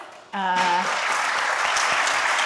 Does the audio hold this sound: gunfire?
no